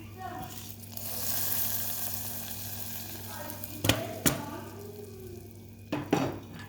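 Hot garlic tempering is poured into a pot of tomato rasam, giving a soft sizzle and bubbling with a few sharp metallic clinks of a pan or ladle, while a voice speaks over it.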